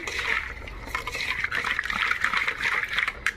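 Running water rinses cleaned raw prawns in a kitchen, a steady close splashing and trickling wash lasting a few seconds without talk.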